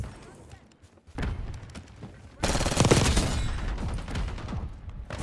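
KOMPAKT 92 submachine gun fire in a first-person shooter match: a quieter stretch with scattered thuds, then a sustained loud burst of rapid automatic shots from about the midpoint onward.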